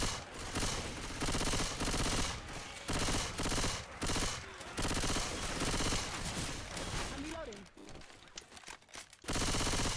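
Rapid bursts of gunfire from Left 4 Dead 2 on the Parish map, near and loud, with repeated volleys separated by brief pauses and a short quieter stretch near the end.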